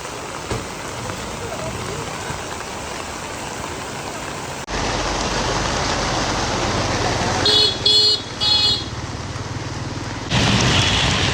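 Heavy rain falls steadily in a sudden storm in Hanoi, Vietnam, growing louder and heavier partway through, with a brief car horn toot and passing traffic noise in the downpour.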